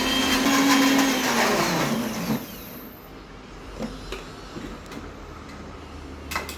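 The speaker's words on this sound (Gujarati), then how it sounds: "જારમાં એકદમ ઝીણું વાટી દેવાનું, એકદમ પેસ્ટ બનાવી દેવાનું." Mixer grinder jar grinding spices into a fine paste: a loud whirring grind for about two seconds that spins down, followed by quiet scraping and light knocks.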